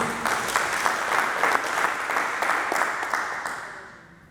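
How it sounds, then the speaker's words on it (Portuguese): Congregation applauding during a church worship service, a steady wash of clapping with a few sharper claps, fading out over the final second. "E eu vou aplaudir novamente, Jesus"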